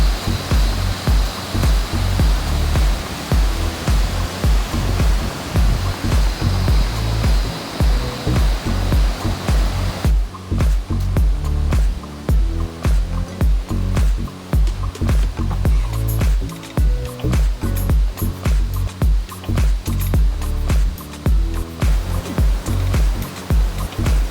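A powerful waterfall rushes near a wooden forest lodge in a valley in Nakhon Si Thammarat, its strong flow making a loud, steady, broadband roar that fills the whole clip with no voices.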